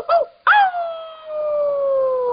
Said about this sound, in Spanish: ¡Perros que cantan! ¡Todos suenan diferente!